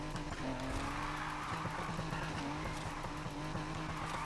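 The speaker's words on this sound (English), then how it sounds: "the drifting definitely feels better" A Volkswagen Beetle in a video game drifts with a continuous tire squeal over a droning engine, steady and loud throughout with no pauses.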